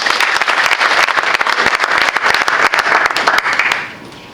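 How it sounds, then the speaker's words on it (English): Audience at a school committee meeting claps in a loud, sustained round of applause that fades out at the end. "Another round of applause for Mila Del Rossi."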